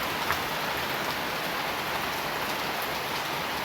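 Heavy rain pours down outdoors during flooding, an even, dense hiss of drops striking surfaces that continues unbroken at a steady level.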